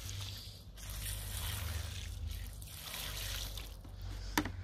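Soapy water soaks and trickles over a piece of cardboard laid on soil, a steady wet pouring and dribbling with soft sloshes, close and continuous, ending with a small splash.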